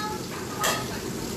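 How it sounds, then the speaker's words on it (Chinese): Barramundi deep-frying in oil over medium heat gives off a soft, steady sizzle with a brief louder burst of crackling midway, heard close up and without talking. "用我们的中火油炸"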